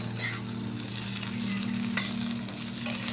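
Chopped onion frying in a pan, stirred now and then, giving a continuous close sizzle with a few scraping and clinking stir sounds and no talking.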